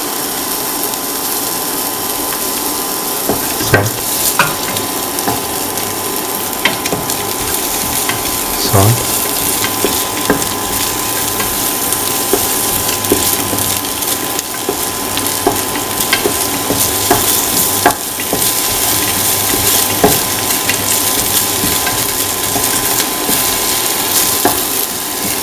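Shallots and garlic sauteing with salt in a pan, a continuous close sizzle and crackle with occasional scraping stirs and soft knocks over a steady hum.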